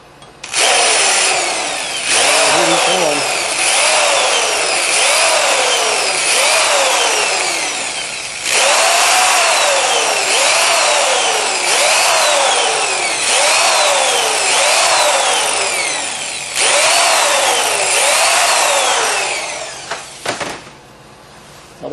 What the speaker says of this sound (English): For the holes, I just use a 90-degree deburring tool.